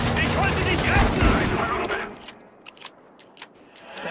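Gunfire in the war shooter Spec Ops: The Line, a dense, loud burst of shots and battle noise for about two seconds, then fading to sparse sharp cracks and pops further off, with shouted voices mixed in.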